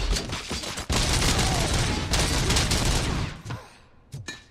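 Gunfire from RoboCop: Rogue City on Xbox Series X: a loud, dense fusillade of overlapping shots and booms. It breaks off briefly, then resumes and tapers into a few isolated bangs.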